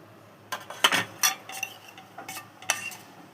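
Rice being arranged in a bowl with utensils for a simple home lunch, heard as a few light scrapes and clinks of metal against the dish in short bursts, close and fairly quiet, with no talking.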